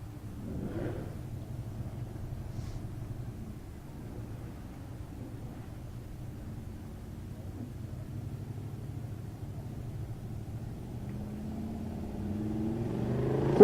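A third-generation Corvette at a drag race in Ennis, Texas, its engine a low, distant rumble that idles steadily and swells near the end.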